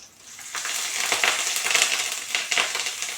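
Curry leaves hit hot oil with a crackling, spattering sizzle that builds and stays fairly close and moderately loud, with sharp popping bursts throughout.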